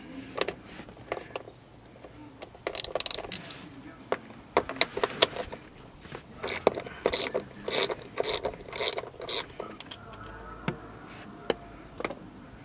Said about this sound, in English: Go ahead and use a 10-millimeter deep socket.